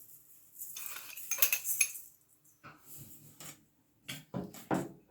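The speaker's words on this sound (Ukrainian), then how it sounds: "Розмішуємо вінчиком" A whisk beats two eggs with 120 grams of sugar in a bowl, by hand with no mixer, for a cherry kefir cake. Close metallic clinking and scraping comes in bursts, with a short lull before a final flurry of strokes.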